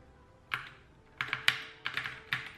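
A custom Kraken Pro 60% mechanical keyboard with red switches, its keys pressed in sharp close clicks: a single tap, then a quick cluster of three, then a few more spaced presses in a quiet room.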